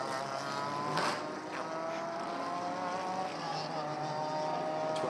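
Race car engines at the Dubai 24 hour race make a continuous, steady roaring drone with slight rises in pitch, heard at a distance with no clear individual pass-by.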